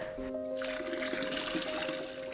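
Liquid whey pours steadily out of a hole in the bottom of a container while making homemade Gouda with pink peppercorns, a continuous close splashing trickle with a faint background hum.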